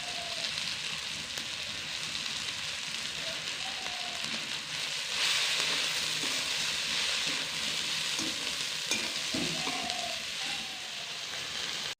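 Finely chopped kulekhara greens frying in a spice mix in a pan of lentils, a soft continuous sizzle with occasional stirring scrapes, steady and moderately quiet throughout, no talking.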